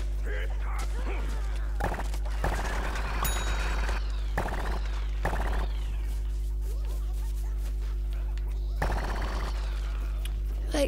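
A tomato character's big rocket launcher firing in Plants vs. Zombies Garden Warfare 2, heard as several loud, crackling bursts of rapid shots separated by pauses over a steady game background hum.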